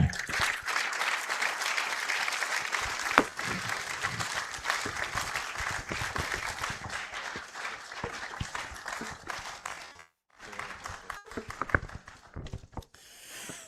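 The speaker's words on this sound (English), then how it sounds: "with a resounding round of applause, permit me and help me welcome Samuel Akoto Danso, Esquire, our speaker" A large ceremony audience at a university awards event gives sustained, dense applause that fills the room for about ten seconds, breaks briefly, then resumes with scattered clapping.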